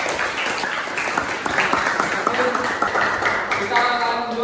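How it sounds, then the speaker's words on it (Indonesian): A classroom audience claps for a student group after its presentation, a dense burst of applause that stays steady and fairly close, with some voices mixed in. "tepuk tangan untuk kelompok 1"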